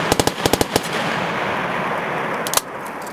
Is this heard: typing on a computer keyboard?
no